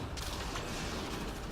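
Flak cannon fire in Mass Effect multiplayer, heard as a dense, continuous stretch of rapid blasts and mechanical clatter that stays at a steady, fairly loud level with no voices over it.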